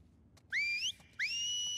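Whistling in The Last of Us Part II: two clean rising whistle notes, each held briefly, clear and moderately close over a quiet background.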